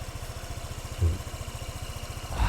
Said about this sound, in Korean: 자, 시동이 걸렸습니다. 엔진이 굉장히 부드럽고 정숙하게 돌아간다는 거.